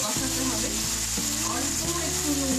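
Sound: chicken chilli being sautéed (kosha) in a pan

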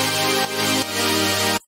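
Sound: supersaw chord progression with changed rhythm

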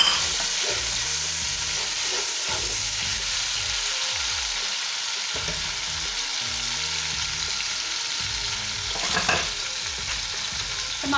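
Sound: tomatoes frying in oil in a pot

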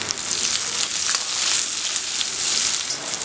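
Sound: shallots, green chillies and curry leaves sautéing in pan

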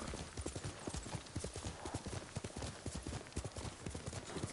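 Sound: horse hooves clip-clopping

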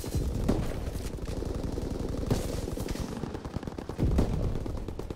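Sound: fighter plane strafing gunfire in Call of Duty: WWII video game

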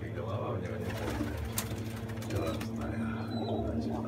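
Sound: pigeon cooing

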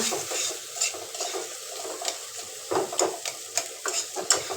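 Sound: potatoes frying in a pan

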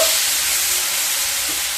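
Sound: onion paste frying in a pan

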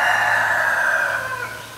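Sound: chickens and rooster clucking and crowing

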